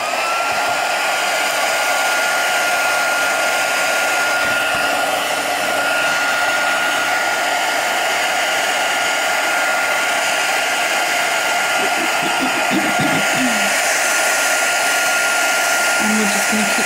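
A hair dryer drying paint on a steampunk artwork runs loudly and steadily without a break, with a brief faint clatter near the end.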